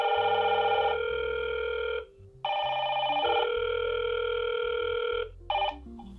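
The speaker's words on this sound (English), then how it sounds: "I'll simply press the button and see how the notification comes through on the indoor station." A Hikvision intercom indoor station rings with an incoming call notification: a loud electronic ringtone of two long bursts with a short gap, then a brief chirp at the end, with no talk.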